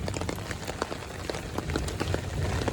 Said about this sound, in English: I don't know if we've ever had this much rain at once